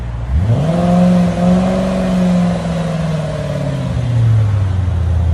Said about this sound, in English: It's the nice thing about Borla S-types. It gives it a really classy sound.